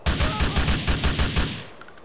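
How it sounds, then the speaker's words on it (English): Heavy automatic gunfire in the video game GTA IV: a loud, rapid burst of about eight evenly spaced shots, then a short tail of fading echo. "Get the heavy artillery in."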